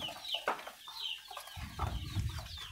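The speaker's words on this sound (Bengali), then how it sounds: "দুইটা মুরগি এসে যে কবুতরের খাবার চুরি করে খাইতো" Hens clucking close by at a pigeon feeding spot, with a run of short clucks and calls over a low rustle of movement.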